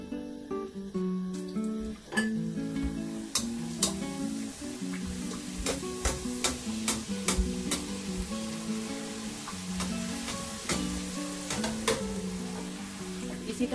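Puri deep-frying in hot oil for a traditional Pakistani halwa puri breakfast, giving a steady, loud, dense sizzle and bubbling that runs throughout, with sharp crackles popping over it and no voice.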